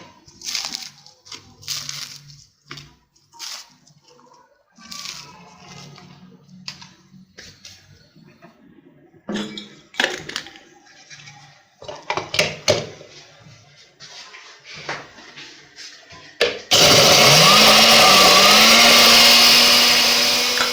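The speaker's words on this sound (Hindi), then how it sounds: "इसे जार में डालेंगे और इसे ग्राइंड करेंगे और अच्छे से इसके ब्रेड क्रम्स तैयार कर लेंगे" Bread is ground into breadcrumbs in an electric mixer grinder jar: soft clinks and handling noises come first, then the motor bursts into a loud, steady, high whirring roar that fills the final seconds.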